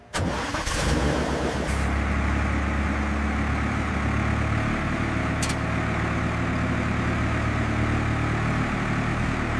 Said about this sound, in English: The engine runs smoothly, and the steering test is complete.